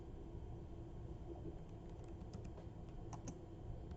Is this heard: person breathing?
no